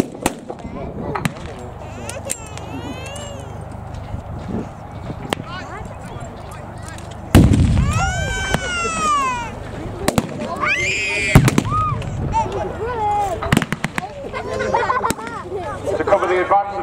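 Battle reenactment at a Yorkshire wartime experience event, with sharp gunfire cracks and loud explosive bangs scattered through a noisy outdoor crowd scene, plus bursts of whistling and crackling and people talking.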